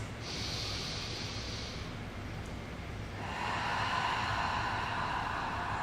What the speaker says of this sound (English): Take 2 more big breaths.